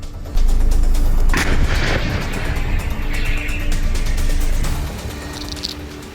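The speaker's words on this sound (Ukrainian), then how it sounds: "На Покровському напрямку стрільба не вщухає." A powerful artillery shot booms up close on the Pokrovsk front in Ukraine, followed by a long echoing rumble that slowly decays, with a second fainter report near the end.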